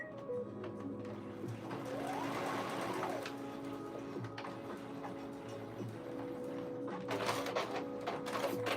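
A sewing machine stitching fabric while basting, a steady mechanical whir and rapid ticking hum running continuously at moderate level in a quiet room, without talking.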